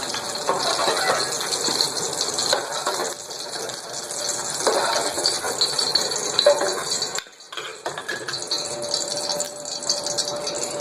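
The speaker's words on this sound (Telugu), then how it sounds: "ఇందాకైతే మనం ఏదైతే పేస్ట్ పట్టేసామో అదైతే ఈ ఆయిల్లో ఫ్రై అవ్వేస్తాం" Ground coriander spice paste fries in oil for a stuffed brinjal curry, giving a continuous close hiss and bubbling sizzle with occasional stirring scrapes and one short dip in level.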